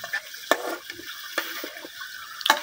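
Fish curry being stirred in a pan with a light sizzle, with sharp scraping strokes of the spoon at intervals under a faint steady frying hiss, close up and with no talking.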